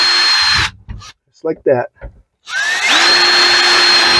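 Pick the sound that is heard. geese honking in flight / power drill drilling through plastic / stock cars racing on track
power drill drilling through plastic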